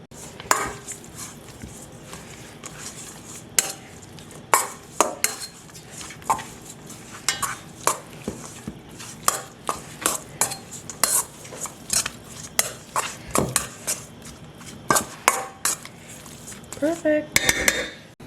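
A utensil stirs meat in a dish to coat it in Sizzlin' Habanero barbecue sauce for sliders. Repeated close clinks and scrapes of metal on the dish come in an uneven rhythm.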